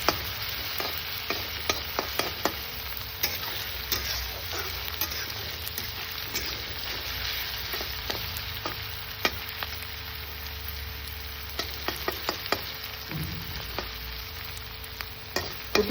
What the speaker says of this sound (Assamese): অকণমান কেঁচা গোন্ধটো যোৱালৈকে ভাজিম